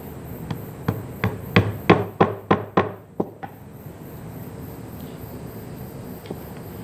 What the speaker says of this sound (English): it's known as a stitching chisel